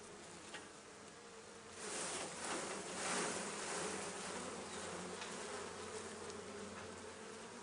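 Honeybees buzz continuously in an opened top bar hive, a dense, soft hum that swells briefly around the middle and carries on steadily, with no voices.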